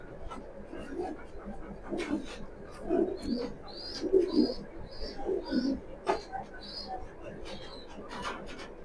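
Pigeons coo in short repeated phrases from a loft of young and paired birds, close and moderate in volume, while someone talks over them throughout.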